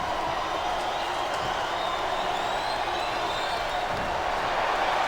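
A large wrestling arena crowd makes a steady, dense roar of cheering and applause that holds at an even level throughout.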